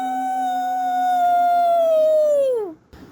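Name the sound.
wolf howling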